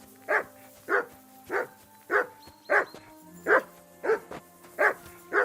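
A dog in Kingdom Come: Deliverance 2 barks at an even, measured pace, about two barks a second, loud and close with no other voices.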